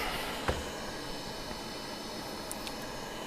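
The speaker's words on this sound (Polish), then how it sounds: "tak słychać szum tej stacji." Steady, soft broadband hiss of the fan of a Fnirsi SAG-55 hot air rework station runs throughout, with a faint hum and a brief click near the start.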